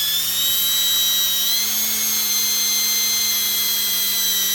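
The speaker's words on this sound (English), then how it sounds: "We just got this one left to drill real quick." A high-pitched power drill whines steadily and loudly for a few seconds drilling a hitch for a 1/10 scale RC trailer, its pitch shifting slightly partway through, with no talking.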